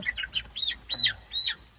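A chicken squawks several times in quick, uneven bursts, close and fairly clear, with no talking.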